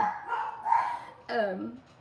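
Small dogs bark sharply, two separate bursts within about two seconds, set off by a Ring doorbell indoors, fairly close and moderately loud.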